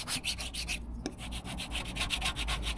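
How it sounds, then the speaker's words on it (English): A squeegee is rubbed back and forth over a van sticker to push trapped air out, giving a close, rhythmic series of scraping strokes with a brief pause partway through. "So we've got a squeegee thing here,"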